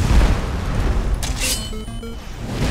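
Fireballs shot by a fire Koopa Troopa in a Mario mod for Skyrim, a heavy boom followed by bright whooshing launches and short tonal blips, loud within a busy game mix.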